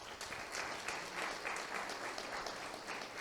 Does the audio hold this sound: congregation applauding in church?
yes